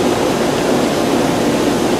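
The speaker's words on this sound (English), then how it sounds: "Bubbling and churning. As you see in the pump right here." A pool pump churns and bubbles steadily while purging air from a vacuum hose, a dense, loud, continuous watery rush with no pauses.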